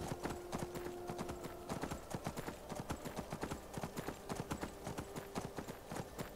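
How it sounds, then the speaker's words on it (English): Horse hooves clip-clop in a steady, brisk rhythm while riding in the video game Skyrim Special Edition, a continuous trotting beat with a brief tonal hum in the background. "ride a horse right up to the main gate."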